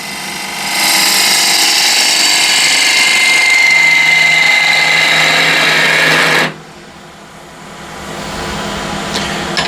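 Small ball gouge cutting into a spinning ash wood box on a lathe, a steady loud whirring scrape for about six seconds that stops abruptly, leaving a quieter hum of the machine running.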